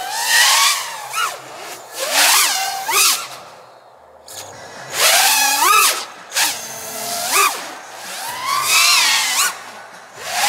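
HobbyMate Meteor 5 drone flying line of sight at full throttle, its motors whining and swooping in repeated passes that rise and fall in pitch, with a wavering oscillating edge, loud and close.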